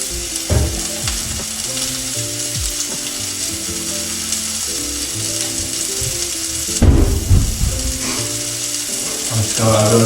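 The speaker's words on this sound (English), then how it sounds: "I'm just gonna go ahead and press that down just a bit. And hear the sizzle." A taco burger patty sizzles in a hot pan as it is pressed down, a steady crackling fry beneath clicking and scraping handling noises, with a louder burst partway through.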